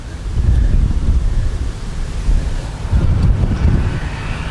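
Strong outdoor wind buffets the microphone in a loud, continuous roar with low rumbling surges that rise and fall over a few seconds, with no voices.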